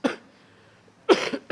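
A person coughs sharply, then a brief pause, then two more quick coughs close to the microphone.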